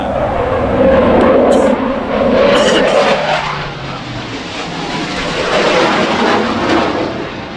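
A loud, broad engine roar swells and recedes as an airplane passes overhead, droning steadily with no voices over it.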